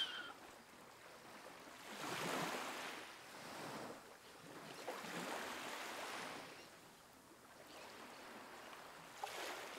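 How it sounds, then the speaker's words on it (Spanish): Ocean waves wash onto a sandy shore in slow, soft swells, each surge rising and receding over a few seconds, with a faint breeze in the background. "Las olas deslizándose suavemente sobre la arena."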